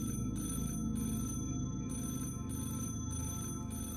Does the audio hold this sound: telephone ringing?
yes